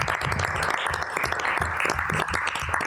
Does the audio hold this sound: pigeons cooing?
no